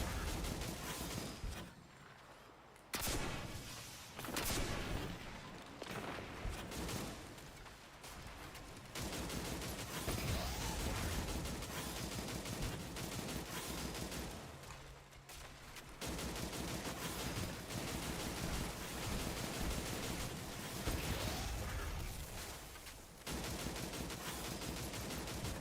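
Loud, dense video game gunfire rattles on in long automatic bursts with brief pauses, explosive shots and echoing impacts filling the whole stretch.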